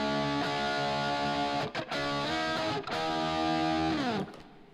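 Heavily distorted electric guitar, a Korina Les Paul through a Devil's EQ, sustaining thick, buzzy chords, loud and close, with a couple of brief breaks before the tone fades out.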